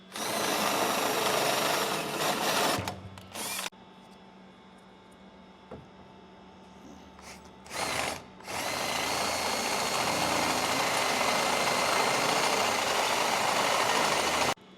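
Power drill boring 1/2 inch holes through both sides of a 2020-2026 Chevrolet Silverado/GMC Sierra L5P 2500/3500 frame for a traction bar install, in long loud whining bursts broken by short pauses, with a brief burst in the middle.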